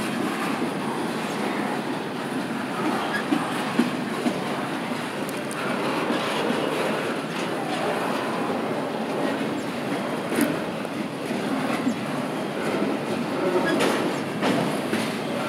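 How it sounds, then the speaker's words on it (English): A Norfolk Southern 228 train rumbles steadily across a bridge in the distance, wheels clattering and occasionally squealing on the track, with no break in the noise. "I wanted to choose this spot so I can get a shot of this train crossing the bridge"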